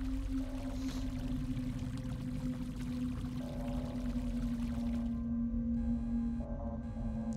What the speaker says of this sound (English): Flusher, flush it on down.